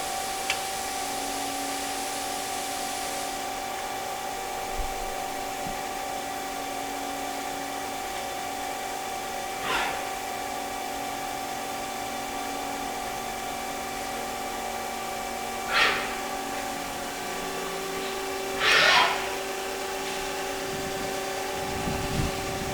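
Steady machine hum from a 2013 Haas ST-10 CNC turning centre with a collet chuck, running its warm-up cycle in a shop. A constant tonal drone carries through, with a few brief sharp hisses or clicks at intervals and no talk.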